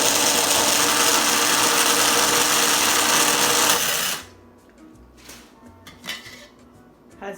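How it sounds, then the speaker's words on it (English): A food processor grinds almonds into meal with a loud, steady whirring roar for about four seconds, then cuts off, leaving a quiet room with a few light clinks and knocks. "I'm going to put on the cover, and we're going to grind until it becomes a meal"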